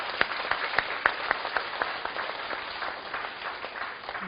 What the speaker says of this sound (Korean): 우리 어머니들을 위해서도 박수 한번.